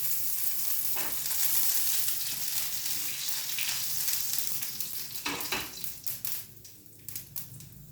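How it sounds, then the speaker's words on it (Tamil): Curry leaves dropped into hot tempering oil with mustard seeds, urad dal and cumin crackle and sizzle loudly, with a few spoon scrapes, then the frying noise tapers into sparse pops. "வாங்க கருவேப்பிலை கொஞ்சம் போட்டு தாளிச்சிக்கலாம்"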